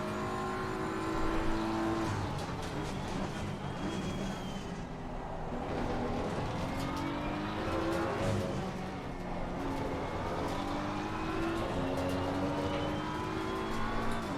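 A Ferrari race car in Assetto Corsa Competizione at Imola, engine droning steadily with shifting revs and overlapping car noise throughout, loud and continuous without a clear single pass.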